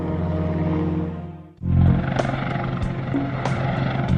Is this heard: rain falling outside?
no